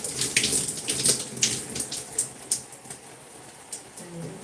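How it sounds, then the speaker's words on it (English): Water running from a tap as hands are rinsed, a close splashing stream with uneven bursts as the hands move under it. "Rinse my hands."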